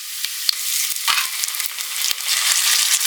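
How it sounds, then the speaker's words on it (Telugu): Ginger garlic paste hits onions frying in a pan for a country chicken curry, raising a loud, crackling sizzle broken by sharp spatula scrapes and taps against the pan. "ఇప్పుడు మనం ఇందులో అల్లం వెల్లుల్లి పేస్ట్ యాడ్ చేసుకుందామండి"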